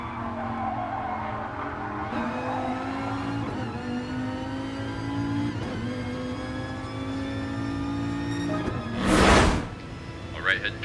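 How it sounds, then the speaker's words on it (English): Race car engines from a racing video game, an Aston Martin DBR9 and a Viper at the Nürburgring GP, drone steadily with shifting pitch, ending in a brief loud burst of noise near the finish. "the DBR9 and the Viper, which are cars that have great top-end speed"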